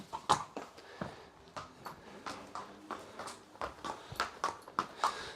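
A horse that scalped in its race, with its front toes striking, walks on a hard surface. Its hooves clip-clop in an uneven, fairly quiet rhythm of many steps, with no speech.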